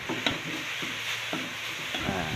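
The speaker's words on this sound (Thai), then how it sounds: "คั่วกับน้ำพริกนะครับให้เข้ากันนะครับ" Small rice-field frogs stir-fried with chili paste and a splash of water in a pan, with a steady soft sizzle broken by several scraping stirs of the spatula.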